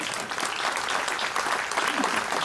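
An audience applauds at a fiftieth anniversary celebration, a dense, even roar of many hands clapping at moderate distance, continuous across the whole stretch.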